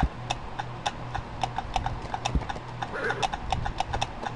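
Regular hoof clops from the horse in the game Clop, close and distinct in an even plodding rhythm over a low droning background, with no talking.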